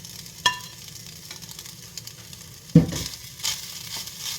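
Scrambled eggs are stirred into Chinese fried rice sizzling in a pan, with a constant close frying hiss broken by a few sharp scrapes of the spatula.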